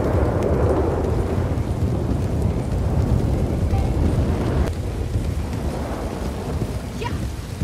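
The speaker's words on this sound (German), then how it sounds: "Und jetzt regnet es schon so stark," Heavy rain pours continuously with deep rumbling thunder rolling underneath in Red Dead Redemption 2 Online, a loud, dense storm wash with no clear pauses.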